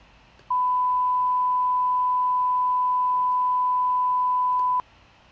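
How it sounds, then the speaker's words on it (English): A single steady pure sine-wave test tone from an oscillator in Logic 9 starts abruptly, holds unchanged for about four seconds at constant loudness, then cuts off cleanly. "I turn the oscillator on and a sine wave"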